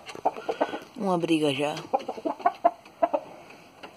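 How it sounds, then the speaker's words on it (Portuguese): A purple rooster clucks in a burst of rising-falling calls, close by, with someone speaking briefly and scattered clicks and knocks around it. "Esse aí é o meu galo roxo."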